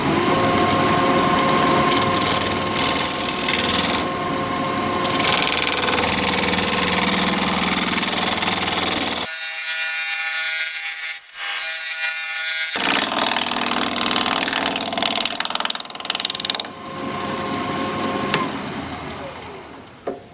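A wood lathe turning scrap apple wood runs loud and continuous, with rough cutting and scraping noise over a steady motor hum, a brief quieter stretch partway through, then resumed grinding.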